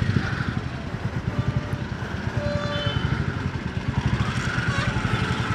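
A motorcycle engine runs steadily with a rapid, throbbing exhaust pulse while being ridden to a garage for a wash, the rumble close and continuous throughout with some wind noise.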